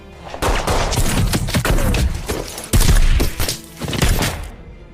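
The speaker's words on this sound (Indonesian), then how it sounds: "Dan baku tembak pun dimulai." Gunfire in a film shootout with terrorists, dense bursts of shots and impacts in rapid succession, loud and close, with a heavier blast near the middle.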